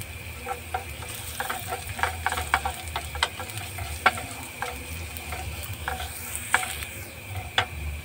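Chopped ginger fries in a hot pan during home cooking of fried rice, a soft steady sizzle broken by frequent scraping clicks of a spatula stirring, with no voices.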